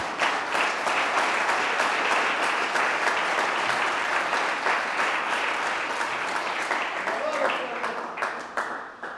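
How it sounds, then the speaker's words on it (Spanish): A church congregation bursts into sustained applause, dense rapid clapping from many hands that fills the room and tapers slightly near the end. "Dele palmas de alabanza al Señor."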